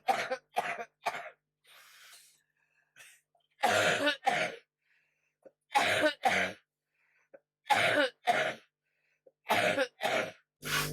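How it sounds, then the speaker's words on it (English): Repeated bursts of coughing and throat clearing from a person who is out of breath, close and fairly loud, coming in irregular clusters separated by short quiet gaps, with no talking. "my coughing takes it out of you"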